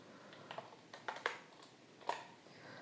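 Keys tap on a computer keyboard while code is typed, as a few faint, scattered clicks in short irregular bursts against a quiet room.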